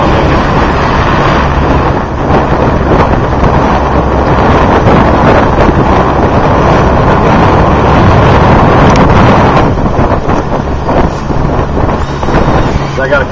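Steady wind roars and buffets the microphone out on Wolf Lake during a fish crib placement, a constant broadband rush with a low engine-like rumble beneath, continuous and loud throughout.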